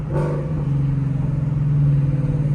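Ford Mustang GT fitted with a Borla exhaust downshifting while driving, a deep steady engine drone rising slightly in pitch after a quick blip near the start, heard close and loud with no talk.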